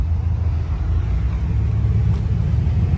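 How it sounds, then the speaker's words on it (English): A 1985 Chevy Caprice Landau Coupe engine idling, a steady low rumble that stays close and constant with no change in revs. "Again, the car's running, so you hear a little rumble."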